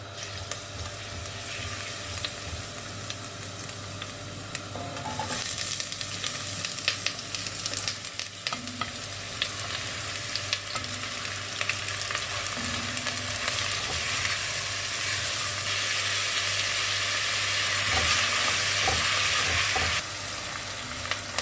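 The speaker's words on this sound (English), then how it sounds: "Just saute your garlic and onions and celery if you have celery, and then carrots." Garlic, onions, celery and carrots sauté in olive oil for a tomato soup, with a continuous close sizzle and occasional stirring scrapes that grow a little louder and denser partway through.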